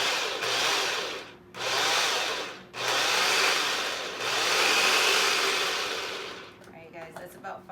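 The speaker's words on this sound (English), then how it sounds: "when you food process this, I would do about like 5-6 pulses" A food processor pulses chickpeas for falafel in four long bursts of broadband whirring separated by brief pauses, loud and close, with a faint voice and a few small clatters after the last pulse.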